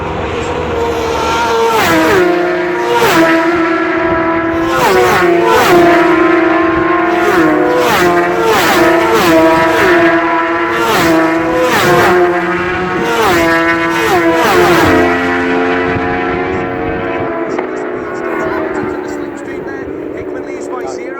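Racing motorcycles at the Ulster Grand Prix road race scream past at full throttle, engines wailing and shifting through gears in a continuous loud roar that pitches up and down as the bikes pass and fade, with a commentator talking over the top.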